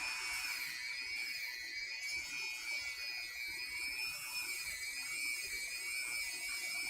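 A rotary power tool sands and bevels a piece of a Republic Commando helmet, whining steadily at high pitch with a wavering tone throughout, close and continuous with no talk.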